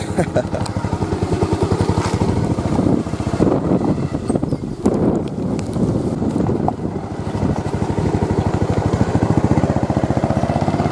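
Motorcycle engine running steadily while riding, with a continuous low rumble and wind buffeting the microphone throughout, and voices talking over it at times.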